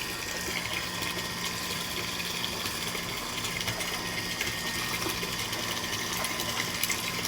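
Contaminated drinking water pours from a residential supply line in a town ward, a loud, unbroken gushing rush that stays steady throughout with no voices.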